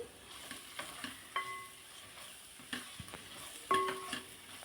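Chicken pieces frying with turmeric and salt in a pan, a low sizzle broken by several spatula scrapes and metallic clinks at irregular intervals, with no talking.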